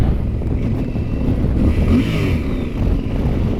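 Stock exhaust of a Yamaha Super Tenere 1200 motorcycle pulling in third gear at about 50 mph on the road, a steady, loud low engine drone that swells slightly mid-clip amid rushing wind, with no talking.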